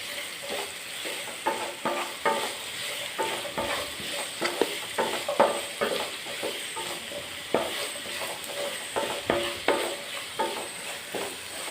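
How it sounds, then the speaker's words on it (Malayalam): Onions with salt frying in a pan, stirred steadily: a continuous sizzle runs throughout, broken by frequent clinks and scrapes of the spoon against the pan. No voices. "സവോള ഇളക്കുന്നതിന് മുമ്പ് നമുക്ക് ഇച്ചിരി ഉപ്പ് കൂടി ഇട്ട് കൊടുക്കാം."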